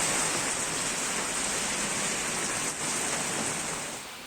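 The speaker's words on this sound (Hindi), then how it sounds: "कानपुर में भी झमाझम बारिश से लोगों ने राहत की सांस ली है" Heavy rain pouring in Kanpur, a dense, even hiss of downpour that holds steady and fades slightly at the end, with no voices.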